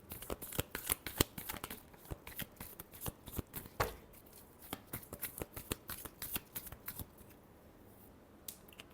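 Tarot cards are shuffled by hand in a steady run of crisp riffling slaps and flutters, close and fairly quiet, with no talking over them.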